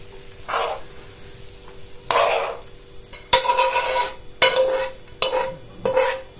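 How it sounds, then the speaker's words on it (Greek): The contents of a frying pan are scraped with a metal utensil into baked pasta: several distinct clattering scrapes and soft sloppy tips of food, close and fairly loud between short pauses, with no talking. "Αυτό λοιπόν που θα κάνουμε τώρα είναι να αδειάσουμε το περιεχόμενο του τηγανιού μας μέσα στα ζυμαρικά."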